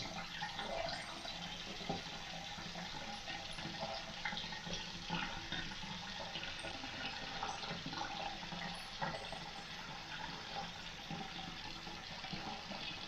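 Water running steadily from a tap to wet a Dollar Shave Club razor, a soft continuous splashing stream with faint background noise.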